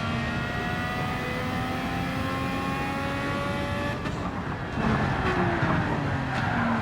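A 1965 Honda RA272 Formula One engine in Gran Turismo 7, a high revving multi-cylinder scream holding steady, then a brief drop and a rougher burst as the handbrake is pulled, loud and close.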